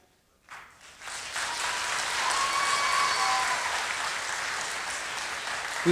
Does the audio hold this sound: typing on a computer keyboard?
no